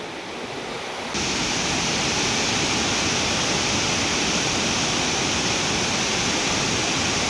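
Abundant water flows at a hidden scenic nature spot near Mahesana, India: a continuous broad rushing roar that jumps noticeably louder after about a second and then holds steady.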